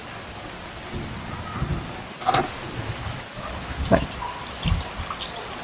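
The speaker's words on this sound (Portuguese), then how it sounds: "E começou a cair uma chuva, gente, que do nada." A sudden tropical downpour in Brazil hisses steadily as a dense wash of falling rain, broken by several sharp cracks and thumps of thunder, while a voice briefly speaks.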